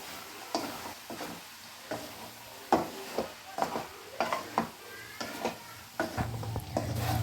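Broccoli egg rice being stirred in a pan, with repeated scraping strokes and a soft sizzle underneath, close and moderately loud, no talking.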